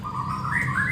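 A caged Oriental magpie-robin, or kacer, makes a soft wavering call that rises in pitch over a low background hum. It is close and continuous for about a second, and no one speaks.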